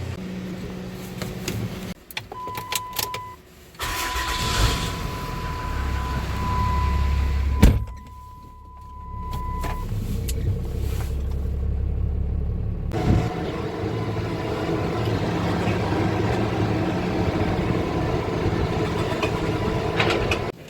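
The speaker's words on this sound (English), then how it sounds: "I'm gonna have to pull the truck out first" A pickup truck is started and pulled out of a farm shop, its engine rumbling steadily for about twenty seconds under a high electronic chime and some clunks, with no talking.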